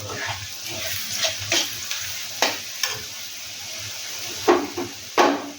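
Garlic frying with browned onions in hot oil, with a soft steady sizzle broken by several sharp scraping stirs of a spatula in the pan, close and alone.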